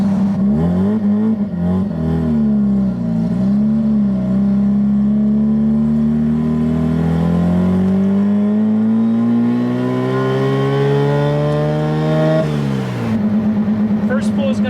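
A turbocharged rotary-engine Suzuki Samurai on the highway, its engine note climbing smoothly in pitch through a long pull under boost, then dropping at the shift before rising again, with talking over it.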